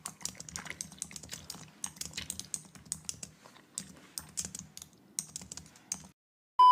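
Rapid, close clicking of fingers typing on a computer keyboard in steady bursts with brief pauses, ending in a short silence.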